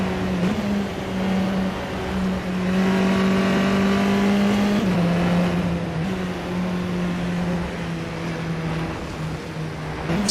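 Onboard a British Formula 4 race car lapping Brands Hatch, the engine screams loud and close, pitch climbing through each gear then dropping sharply at upshifts, with no talking over it.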